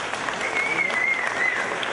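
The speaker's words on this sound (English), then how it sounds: "Let's give her a big round of applause." Audience at a mentalism show applauding, a brief even burst of many hands clapping at moderate loudness across the hall.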